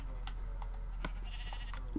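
Sheep bleat a few times in Minecraft, short faint calls over a steady low background hum.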